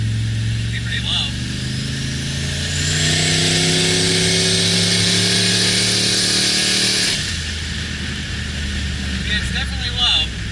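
A turbocharged car engine under test with a DIY boost controller and wastegate revs up through gears, a loud rising drone that climbs in pitch, then drops off and settles to a lower engine note, with voices talking over it.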